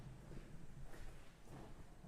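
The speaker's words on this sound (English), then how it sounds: "That rain really sounds like footsteps." Soft rain with a low rumble of thunder in a creepy ghost-themed video game, heard faintly with a couple of brief swells, with no voices.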